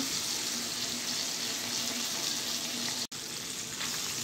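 Chicken pieces sizzle steadily in hot oil while frying to a deep red colour, an even close hiss with bubbling that breaks off for an instant near the end.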